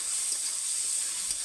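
Onion, tomato and whole green chillies frying together in a little oil in a kadai, a steady bright sizzle, close and even, with no voices.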